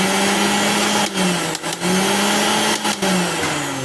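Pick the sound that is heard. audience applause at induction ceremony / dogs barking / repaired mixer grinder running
repaired mixer grinder running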